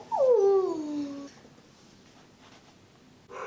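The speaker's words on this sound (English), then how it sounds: "the dog's barking" A dog lets out one drawn-out whimpering yelp that falls in pitch, close and fairly loud, then quiet room tone follows until a short noise at the end.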